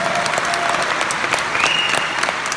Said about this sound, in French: ça mérite aussi énormément d'applaudissements